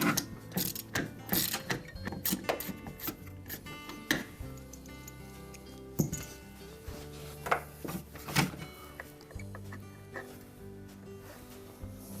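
Repeated clicking and ratcheting from a screwdriver backing out screws from a Whirlpool refrigerator condenser fan motor, with close, irregular metallic ticks and clacks over several seconds and no voice.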